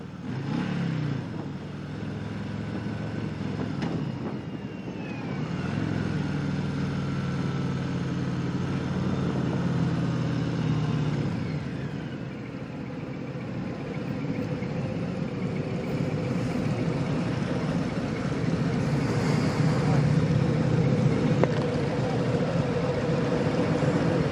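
A Harley-Davidson Fat Boy motorcycle on a demo ride, its engine and exhaust giving a continuous loud low rumble mixed with wind noise, swelling slightly as the throttle changes, with no one talking.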